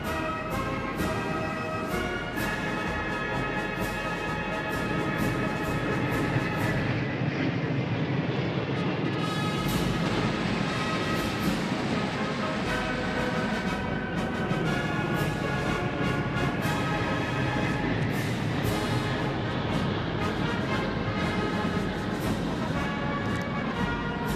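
Military aircraft, including Y-20A airborne refueling tankers flying in an echelon of three, pass over Tiananmen Square during China's 2025 military parade; a steady, loud, broad roar continues throughout with no talk.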